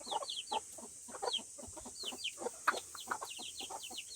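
Several newly hatched chicks peep in rapid, high, repeated chirps, each a short falling note, close by and steady throughout with no talking.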